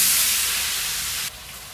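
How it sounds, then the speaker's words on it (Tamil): A large pot of chicken biryani erupts in a loud, hissing sizzle as chopped onions go in; the hiss is strong and sustained, then drops abruptly to a quieter frying sound near the end. "இப்போ நம்ம வெங்காயம் சேர்த்துடலாம்."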